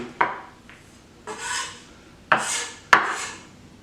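A kitchen knife chopping garlic on a cutting board, a few sharp knocks with scraping rasps between them, close and clear with no talking.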